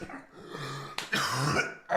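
A short, throaty cough or throat-clearing burst, close and fairly loud, with brief pauses around it and no talking.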